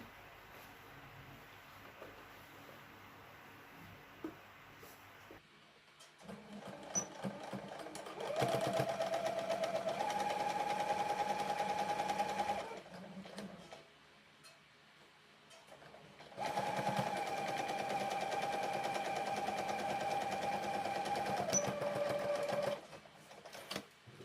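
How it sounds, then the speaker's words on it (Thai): A sewing machine stitches a fabric face mask in two long, fast-running bursts with a quiet pause between them, its rapid needle clatter loud and close against faint room noise. "แล้วเราก็มาเย็บฝั่งนี้นะคะ"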